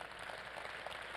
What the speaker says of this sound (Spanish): ¿Alguien puede darle un aplauso a Dios?